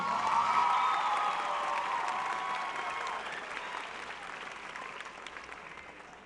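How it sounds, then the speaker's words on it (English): At a high school graduation ceremony, a large crowd applauds and cheers with scattered whoops, loud at first and slowly thinning over several seconds. "How about another round of applause for our senior counselor"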